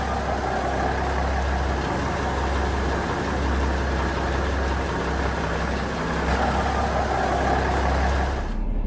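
A boat's main engine running steadily, a loud, close, continuous low rumble and drone with no talk over it.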